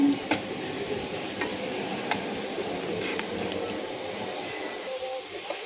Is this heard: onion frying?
yes